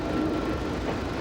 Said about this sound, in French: le 5792 démarre à son tour